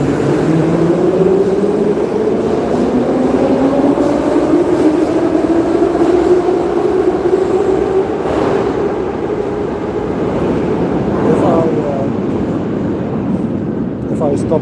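Interior of a moving train, a continuous loud rumble with rising and falling motor whine throughout, while a person talks over the noise.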